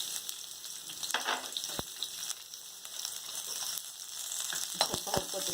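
Onions frying in a spoonful of oil for horse gram sambar, a steady soft crackling sizzle with occasional spoon taps, close and faint.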